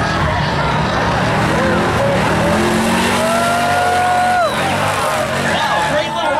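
Drag racing with a Plymouth Coupe and a 1965 Chevy El Camino at a Hot August Nights event: loud, continuous engine roar with rising and falling revs and some tire squeal, with an announcer talking over it.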